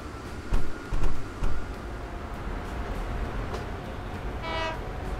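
A Shinkansen train in the Train Fever video game rumbles steadily, with a few soft thumps early on and a brief high horn tone near the end.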